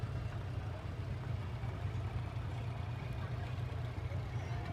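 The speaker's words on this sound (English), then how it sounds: "it looks as though we have a change of tractor brands right about here" A low, steady engine rumble from tractors rolling past during a Veterans Day parade, idling and droning at moderate distance without distinct revs, with faint background noise.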